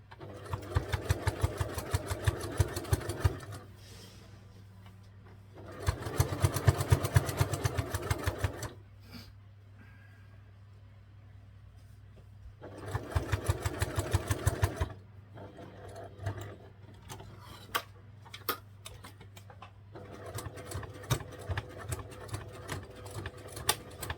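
Sewing machine stitching taut fabric for the body of a half-moon bag, loud steady whirring bursts of about three seconds each, separated by quieter stretches of low hum and faint handling.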